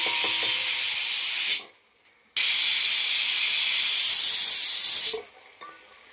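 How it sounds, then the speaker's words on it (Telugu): Mutton head curry boiling hard in a pot with coarse salt, steam hissing loudly and steadily, cutting out twice briefly as the lid or camera shifts, then resuming. "బాగా ఉడుకుతుంది"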